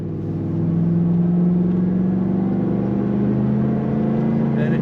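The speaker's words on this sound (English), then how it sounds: "Great throaty exhaust note coming from this car." A 1989 Pontiac Firebird Formula engine running with a throaty exhaust note, a deep steady drone that swells slightly as throttle is added, heard from inside the car.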